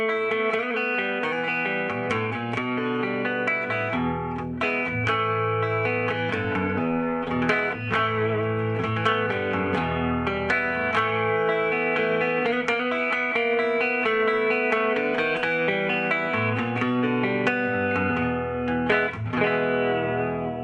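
A Fender Jazzmaster electric guitar played through a cranked Fender Bassman head and cabinet gives a gritty, naturally overdriven tone, with strummed chords and ringing notes sustaining loudly and continuously with no pedal.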